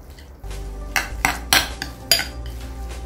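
A spoon scrapes and clinks against a bowl as canned tuna filling with mustard is mixed, producing several sharp clinks and scrapes over a low steady background.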